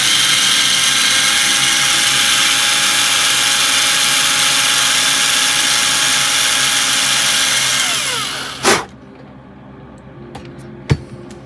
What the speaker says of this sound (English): So hopefully you can see the drill went right into where the beacon would be